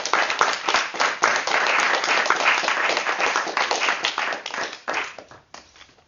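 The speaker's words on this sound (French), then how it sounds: "Je pense qu'on peut l'applaudir." Audience at a debate on monitoring the unemployed applauds the speaker in a steady, dense round of clapping that swells, holds, then thins out and fades near the end.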